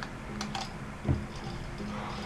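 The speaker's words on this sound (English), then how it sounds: "What's he typing?" Fingers tapping on a computer keyboard at a gaming expo booth, a quick close run of light clicks with one heavier thump partway through, against a low background murmur.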